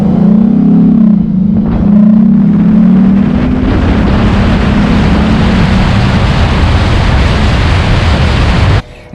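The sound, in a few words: Lexus IS350 engine with F-Sport air intake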